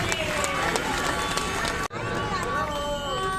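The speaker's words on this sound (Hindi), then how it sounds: "एक बार जोरदार ताली हमारे संघ के लिए।" Audience clapping loudly at a Shrimad Bhagavat Katha religious gathering in India: dense, steady applause with tonal music underneath, broken by a brief drop at the cut, then resuming just as strongly.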